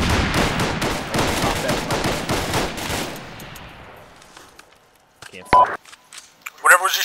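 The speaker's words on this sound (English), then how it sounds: "Whatever was just shooting those grenades hit me" Rapid gunfire crackles loudly in ARMA 3, dense bursts that thin out and fade over three seconds, then quiet with a few sharp isolated sounds and clicks near the end.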